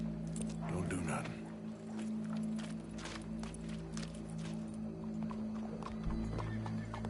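Horse hooves clip-clop irregularly alongside snorts and a whinny, mixed with a steady low hum and people talking over the top.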